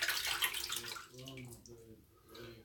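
Water runs and splashes from a tap while a razor is rinsed during a wet shave, loud at first and then settling to a softer flow that continues under faint talk.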